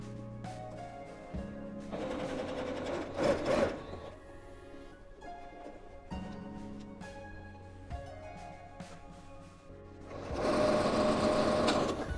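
A sewing machine stitches fabric for a dog bed in bursts of fast mechanical whirring, louder runs near the start, middle and end separated by quieter pauses, close and alone.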